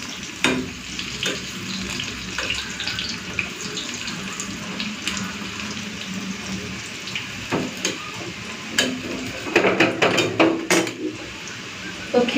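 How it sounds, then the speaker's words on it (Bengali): Slices of eggplant fry in oil in a pan, giving a steady close sizzle with scattered clicks and clatters as the pieces are flipped. Sharper knocks come toward the end. "কয়েক পিস ভাজা হয়ে গেছে, এখন আমি উল্টিয়ে দিই।"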